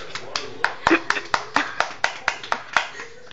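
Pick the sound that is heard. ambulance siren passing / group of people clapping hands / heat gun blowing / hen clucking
group of people clapping hands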